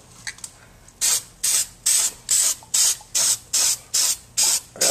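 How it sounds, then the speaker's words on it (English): Short bursts from a spray paint can coating an airsoft gun, about nine evenly spaced hissing sprays of roughly a third of a second each, close and loud after a brief quiet start. "Or else you have to spray a lot to cover up the darker spots."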